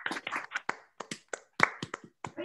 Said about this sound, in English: Everybody, give them a hand of applause.